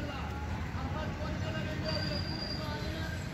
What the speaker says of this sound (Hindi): Jabalpur railway station